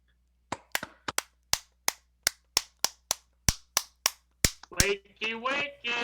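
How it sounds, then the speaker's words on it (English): Sharp, close claps picked up on microphones, about fourteen distinct cracks in an uneven rhythm, loud and near, followed by voices talking at the end. "get your hands near your mic,"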